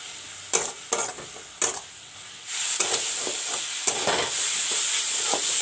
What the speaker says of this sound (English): Put some salt to taste and fry the masala with the methi saag.